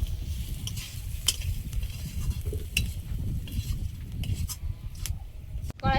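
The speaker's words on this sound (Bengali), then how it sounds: "মশলাটা ভালোভাবে ভেজে নেব।" Spice paste stirred and sizzling in a hot pan, a steady low frying crackle with scraping stirs and a few sharp utensil clinks against the pan throughout.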